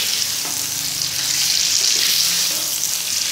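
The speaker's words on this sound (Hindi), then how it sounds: "अब इसके अंदर हम डाल देंगे ये ऑयल और इसको कर लेंगे फ्राई जब तक कि ये अपना कलर चेंज नहीं कर देता" Chicken pieces fry in melted butter and oil for a white karahi over medium-high flame, making a loud, continuous close sizzle with a few soft stirring knocks and no talking.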